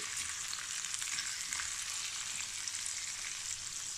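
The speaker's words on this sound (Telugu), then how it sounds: "ఇప్పుడు ఆయిల్ వేడెక్కాక ఇందులో కాస్త పిండి వేసుకుని" Uthappam batter made from urad dal, poha and rice fries in hot oil with a steady, bright sizzle and crackle, close and continuous with no talking.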